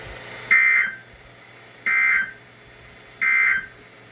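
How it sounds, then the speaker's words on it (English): A loud electronic weather radio warning alarm tone, sounded during a weekly test, beeps three times, each a steady half-second beep, evenly spaced about a second and a half apart. "the National Weather Service has just activated the public warning alarm tone"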